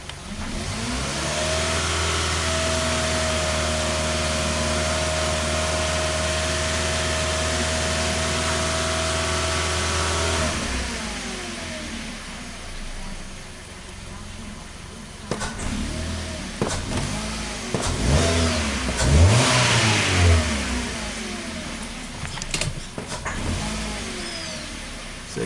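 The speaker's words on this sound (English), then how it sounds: "Let's rev it and see what's going on." A 2012 Hyundai Accent engine that cranks, starts and stalls, idling steadily at first, then revved in several sharp bursts with a loud rising and falling roar, up close and with no talking.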